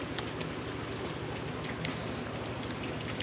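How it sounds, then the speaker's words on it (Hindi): Light night rain patters steadily on surfaces outdoors in Uttarakhand, a soft even hiss with scattered closer drops and no voices. "हल्की हल्की बारिश हो रही है।"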